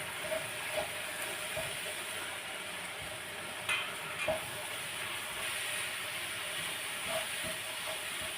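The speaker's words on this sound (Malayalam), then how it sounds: "മല്ലിപ്പൊടിയുടെ പച്ചമണം ഒന്ന് മാറുന്നതിന് വരെ ഇതൊന്ന് ഒന്ന് വഴറ്റിയെടുക്കാം" Coriander powder sautéed in a pan while making chicken stew gives a low, steady hiss, broken by a few soft scraping stirs, with no voices.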